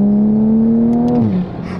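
A manual Toyota Supra engine revs loud and close, its tone holding and rising slightly before dropping away as the revs fall, with no talking over it.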